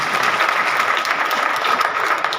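A church congregation applauds loudly during Sunday worship, a dense continuous wash of clapping that holds steady throughout without pause.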